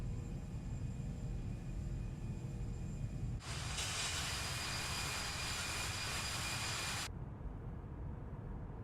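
Jet engines of an Airbus A340 airliner in Microsoft Flight Simulator 2020 hold a steady low roar, then a brighter hissing layer of engine noise rises abruptly for a few seconds before cutting off, with no talking.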